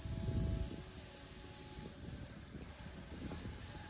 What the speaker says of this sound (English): these misters, they just go ahead and spray the cows on the backs as they're eating